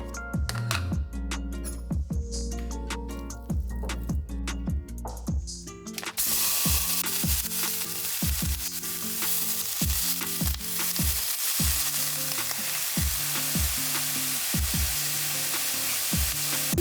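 A flattened bison burger patty, heavily salted, fries in a hot pan with a loud, steady sizzle that jumps in intensity partway through, punctuated by regular scraping taps of a utensil, close and without talk.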